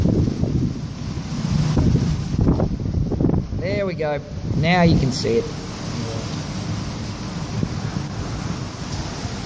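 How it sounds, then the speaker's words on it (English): Strong wind buffets the microphone outdoors in heavy rain, a steady low roaring rumble that runs the whole way through while someone talks. "Windy."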